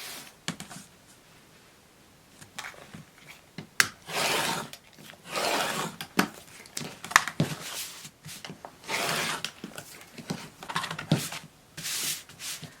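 Trimming the sides of a quilted egg-shaped potholder block to square it up, heard as a series of soft, irregular rubbing and scraping cuts close by, with quiet pauses between strokes and no talking.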